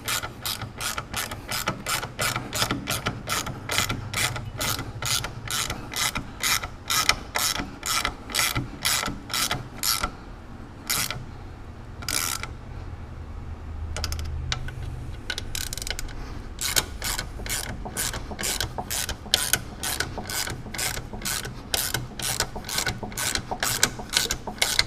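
A Milwaukee power ratchet spins bolts on a Porsche 944 rear sway bar, giving a steady, fast mechanical clicking whir that runs almost continuously, close up, with a few short pauses near the middle.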